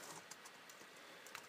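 Quiet typing on a computer keyboard gives soft, irregular clicks close by. No one speaks.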